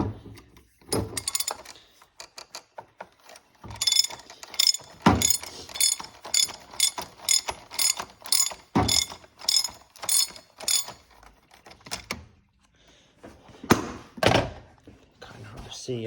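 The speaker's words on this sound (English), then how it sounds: "I'll get this ratchet to work." A ratchet clicks in rapid runs of sharp metallic ticks while loosening the oil filter beside the engine of a Chevy Cruze, bursts separated by pauses and a few heavier clunks, close and loud, with someone talking at times.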